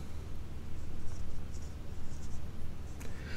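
Writing on a board during a lecture, a steady close scratching of strokes continuing throughout with no talk, ending on a brief sharper tap.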